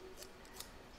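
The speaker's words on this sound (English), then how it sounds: "Now this tape here, I'm just going to cut that in half" Scissors snip through a strip of tape while making a dog pouch, two quick cutting clicks close up in an otherwise quiet room.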